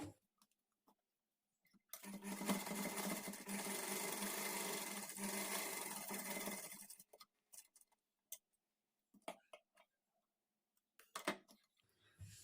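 A sewing machine stitches a blouse sleeve in one steady whirring run of about five seconds, followed by a few short clicks and handling taps.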